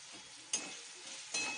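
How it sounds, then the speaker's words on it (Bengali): Paneer pulao spices (cumin powder, salt, garam masala, sugar) stirred and frying in a pan: a faint, steady hiss with two brief scraping bursts of the spoon against the pan. "নাড়াচাড়া করবো একটুখানি, মানে ফ্রাই করে নেব এগুলোকে সম্পূর্ণ।"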